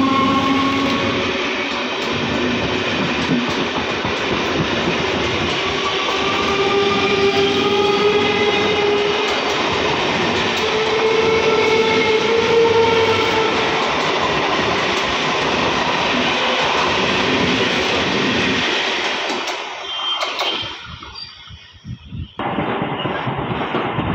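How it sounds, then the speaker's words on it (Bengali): The down Shantipur–Bongaon local train rumbles past loud and close with a sustained roar, rail clatter and screeching tones, then fades out abruptly near the end. "down Shantipur Bongaon local pass করছে"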